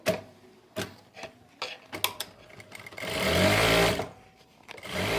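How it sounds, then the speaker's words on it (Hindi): Sewing machine stitching elastic onto a farshi shalwar, a few short bursts of stitching followed by a longer steady run, close and fairly loud with no talk. "और अब एक सिलाई इसके ऊपर से लगाएंगे।"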